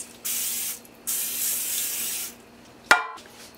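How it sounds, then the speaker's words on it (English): Two long hissing bursts from a spray bottle coating a bread pan, followed by a brief clatter of something being set down. "So spray this down."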